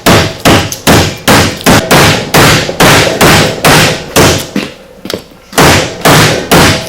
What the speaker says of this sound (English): use this to drive the new bearing in place